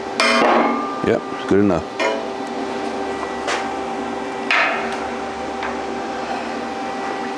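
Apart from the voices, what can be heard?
hammer tapping on a sculpture mount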